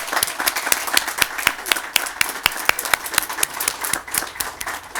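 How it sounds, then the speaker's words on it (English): A round of applause at an outdoor ribbon cutting for a basketball court, dense rapid clapping from a small crowd, close and bright, holding steady for several seconds. "Let's give them another round of applause."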